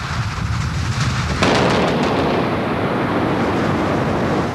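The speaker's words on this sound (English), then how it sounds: "You are watching a controlled explosion in a diamond mine in northeastern Botswana." A controlled blast in a huge open-pit diamond mine in northeastern Botswana: a dull rumble gives way to a sudden broad roaring burst that holds as a loud sustained wash of noise, with no voices.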